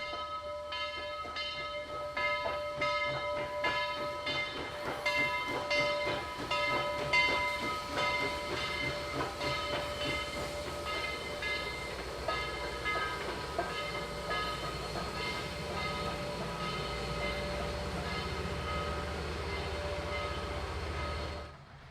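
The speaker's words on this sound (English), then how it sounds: "The train crosses the bridge that spans Crawfish Spring in Chickamauga" Southern Railway steam locomotive 4501 rumbles steadily across a bridge over Crawfish Spring in Chickamauga, a continuous mechanical hum and rhythmic clatter, holding loud and near before fading at the end.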